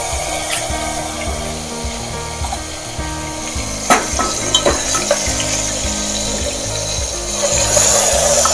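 Onion and tomato gravy sizzles and fries steadily in a hot pan for a soybean dish, with a few sharper stirring scrapes and clicks near the middle; no one speaks.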